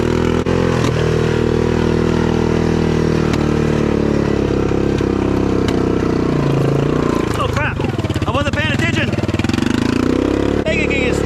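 A built Honda four-wheeler ATV engine chugs along at a crawl in second gear, a steady low drone with some clatter and shifting revs, while a voice talks over it.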